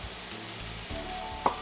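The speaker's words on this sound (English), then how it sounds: "we're sauteing here, and we stir it up periodically" Eggplant sautéing in a pan with soy sauce and garlic sauce, a steady low sizzle with a few soft stirring scrapes and a brief sharper clink near the end.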